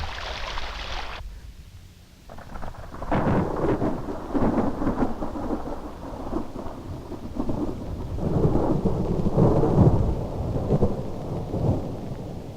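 Steady rain pours down close by in a forest, with heavy rumbling like distant thunder rolling underneath, loud and continuous.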